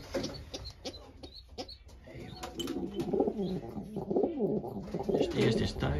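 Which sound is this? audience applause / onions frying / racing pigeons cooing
racing pigeons cooing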